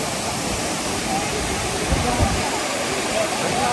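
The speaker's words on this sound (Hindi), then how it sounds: "ये देखो गाइस हम पहुंच गया है हेवी फॉल्स वाटरफॉल पे।" Hebbe Falls waterfall near Chikmagalur roars as a steady, loud, broadband rush of falling water filling the whole clip, with a voice talking faintly underneath.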